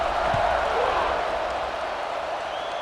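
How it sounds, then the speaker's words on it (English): A college football stadium crowd at Michigan State versus UCLA keeps up a steady, broad roar after a touchdown, with a commentator talking over the sustained noise. "this crowd is buzzing after that last score"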